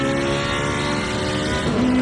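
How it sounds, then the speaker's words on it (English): Ferrari GT4 race car engine in a racing video game, a steady loud harmonic drone that climbs in pitch toward the end as the car accelerates, with no voices over it. "Let's hear the Ferrari engine"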